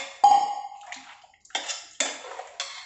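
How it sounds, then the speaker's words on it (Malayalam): Water splashes into a metal cooking pot in several separate pours, each a sharp clattering gush that trails off, with short quiet gaps between them, close and clear. "കുറച്ച് വെള്ളം വയ്ക്കാം"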